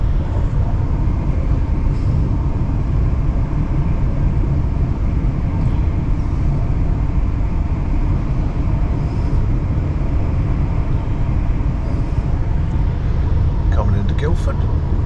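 A nearly empty train carriage in motion gives a steady, loud low rumble and rattle that runs the whole time, with faint clicks and knocks over it.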